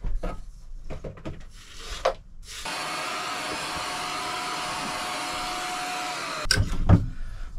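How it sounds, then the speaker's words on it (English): A small handheld dust-buster vacuum cleaner sucking ash out of a stove aboard a liveaboard narrowboat, starting with a few scraping knocks, then a steady continuous whine for about four seconds before clattering sounds return near the end. "It's never going to be perfect when you're using something like this, like a little dust buster type vacuum cleaner"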